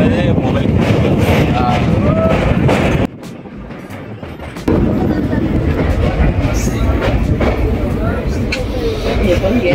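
Steady rumble and rattle of a moving passenger train on a route toward Hampi, with wind buffeting and a brief quieter dip midway, while people talk over it throughout.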